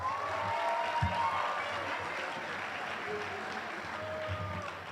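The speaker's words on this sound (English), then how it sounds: "You can cheer for the Patriots, right?" A crowd at a mayor's address claps and cheers in a large hall, a sustained wash of applause with scattered shouts, moderately loud and steady from start to finish.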